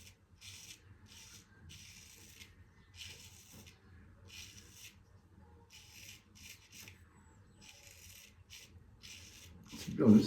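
Straight razor shaving skin in repeated short scraping strokes, a rhythmic dry rasp of bursts and pauses, close and fairly quiet, with a louder handling thump at the very end.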